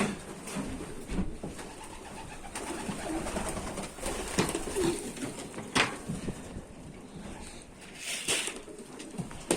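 Pigeons in a loft coo softly over a busy, rustling background, with occasional taps and knocks.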